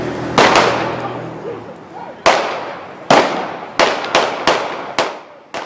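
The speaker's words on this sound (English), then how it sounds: "Officers then fired more than a dozen gunshots." Sharp, loud police gunshots ring out one after another. Each one echoes and decays, with irregular gaps and a quick cluster near the end.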